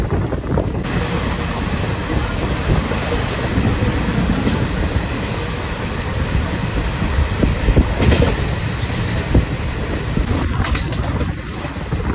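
An express train runs from Tarapith to Kolkata, a loud, continuous rumble and roar from inside the carriage with rhythmic rail clatter and faint bird calls near the end.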